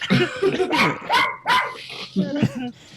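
A dog barks and yips in short bursts, close and loud, mixed with whimpering sounds during a tabletop role-playing session, with people talking around it.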